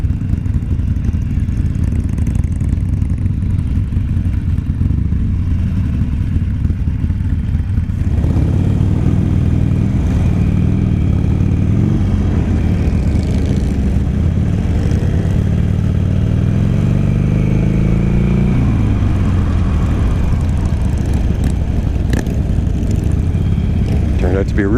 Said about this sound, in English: Looks like we got a few bikes.